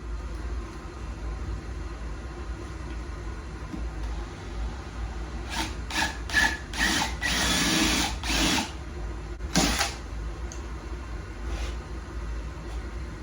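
Electric drill boring a pilot hole into a vintage motorcycle gas tank with a sleeve on the bit as a depth stop, heard in several short, whining bursts over a faint steady background hum.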